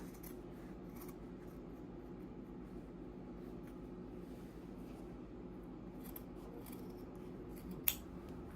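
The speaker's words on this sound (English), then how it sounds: "And we're going to cut out that square." Scissors cut square corners out of fabric for a boxed-corner zipper pouch, a steady, close, quiet rasping snip that runs throughout, with one sharp click near the end.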